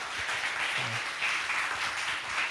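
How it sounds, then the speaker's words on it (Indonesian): Applause for Kak Kristina at a church youth service: a soft, steady wash of clapping from a congregation, somewhat distant and continuous throughout, with a brief low murmur of voice. "Kita boleh kasih aplaus untuk Kak Kristina"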